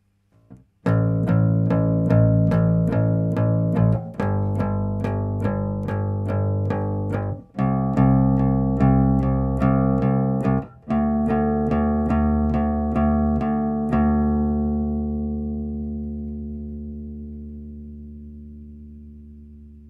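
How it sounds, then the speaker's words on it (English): A bass guitar picks out a steady run of firmly fretted, clear notes, each sharply plucked and ringing into the next. The line is loud and close, then ends on a long final note that slowly fades out. "now you're playing bass"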